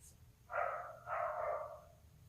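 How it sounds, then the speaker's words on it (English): Neighbors' dogs barking outside, two muffled barks about half a second apart, distant and moderately loud over a quiet indoor background, with no talk. "my neighbors let their dogs out."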